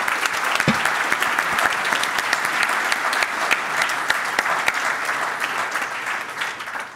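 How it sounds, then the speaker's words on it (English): A large audience at an evening housing-policy event gives sponsors a sustained round of applause, many hands clapping in a thick, even wash that holds steady and then fades slightly at the end. "Let's have a round of applause for everyone."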